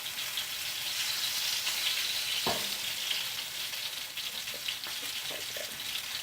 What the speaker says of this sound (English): All I'm doing is just browning the outside just for the flavor.